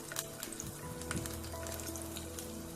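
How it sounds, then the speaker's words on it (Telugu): Garlic cloves frying in hot oil give a steady close sizzle with crackling pops throughout, no voices present. "ఈ ఆయిల్ అంతా కూడా వేడైన తర్వాత దీంట్లోకి నేను వెల్లుల్లి రెబ్బలు వేసుకున్నాను. కొద్దిగా ఫ్రై చేసుకుంటాను దీన్ని."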